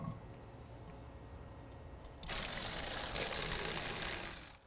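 A Range Rover fuel pump starts a steady motorized whir partway through, joined by continuous fuel splashing and pouring into a bottle, fairly close and loud, running until it cuts off near the end.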